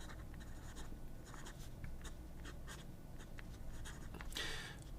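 Fountain pen with a Scribo fine flex gold nib writing on paper: faint, close scratchy strokes in short irregular bursts over a quiet background hiss, no talking.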